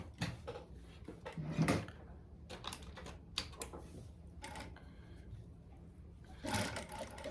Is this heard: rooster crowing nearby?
no